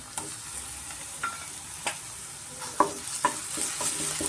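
Onion, capsicum and mushroom fry quietly with ginger garlic paste for pepper mushroom rice, a soft steady sizzle with scattered spoon taps and stirring scrapes against the pan, no one speaking.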